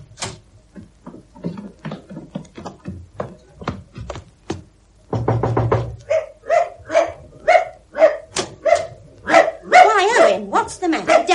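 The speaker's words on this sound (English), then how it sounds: "All right, Bunter, there's a good dog" A dog in a radio drama barks and yips in a series of sharp, close calls over about ten seconds, with people talking around the barking.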